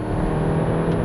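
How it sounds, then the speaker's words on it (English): Engine of a 2017 Honda Civic Hatch Sport manual holding its revs in a brief, steady, close drone, a continuous hum with no talking. "There's the rev hang."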